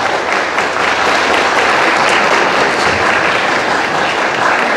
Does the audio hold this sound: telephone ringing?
no